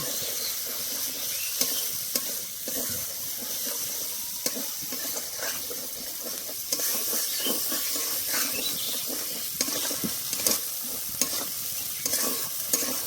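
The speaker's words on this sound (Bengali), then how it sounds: "এবার ভালো করে কষে নেব" Chopped green chili and tomato sauté with spices in a pan for a vegetarian soybean dish, a soft steady sizzle with frequent stirring scrapes and occasional clinks, close and fairly quiet.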